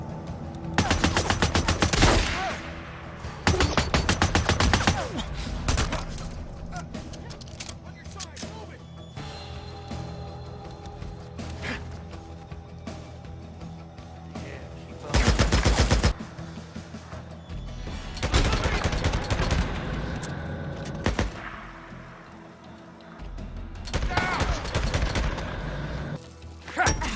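Bursts of automatic gunfire from Days Gone's combat come in loud clusters separated by quieter stretches of ambient sound and scattered single shots, rattling close and heavy across a drawn-out firefight.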